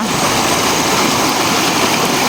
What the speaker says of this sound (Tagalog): You are enjoying the river.